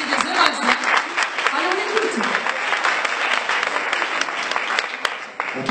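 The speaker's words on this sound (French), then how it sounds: "On peut l'applaudir plus fort que ça" An audience claps steadily, a dense patter of many hands close by, while someone speaks briefly over the applause.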